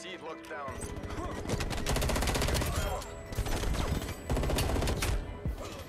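Rapid gunfire from a Call of Duty Cold War match, including a sniper rifle and the FFAR 1 assault rifle, crackling in dense overlapping bursts with loud sustained shooting throughout.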